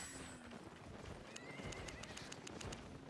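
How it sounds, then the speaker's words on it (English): A horse in a video game gives a faint, drawn-out neigh and whinny over soft clip-clop hoofbeats, heard quietly against low background sound with no talking. "Horsey."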